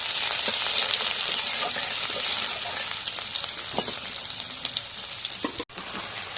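Onions fry in hot oil in a pan with a dense, continuous sizzle, close and fairly loud. Occasional soft scrapes of stirring come through the crackle, and there is no speech.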